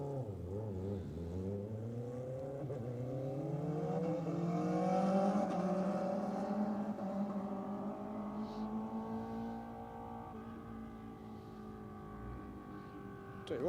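Racing motorcycles picked up by trackside microphones at a race meeting, engines droning and rising in pitch as they pass and accelerate, fairly distant, a steady roar with no voices.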